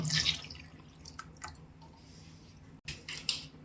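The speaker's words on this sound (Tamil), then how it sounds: "இப்போ இதெல்லாம் சேர்த்ததுக்கு அப்புறம் தேவையான அளவுக்கு தண்ணி ஊற்றிக்கலாம்" Water poured into a pot of murungai keerai (drumstick leaf) sambar with small onions, splashing and dripping in short bursts, louder at the start and again near the end, with faint clinks of cookware.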